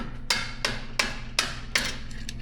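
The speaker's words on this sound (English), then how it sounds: "you need to get a screwdriver and a hammer and pop this clip off." Sharp metallic hammer strikes on a screwdriver, prying a stuck suspension clip off an electric Honda Crosskart go-kart; five distinct, evenly spaced taps ring out close and clear over a low steady hum.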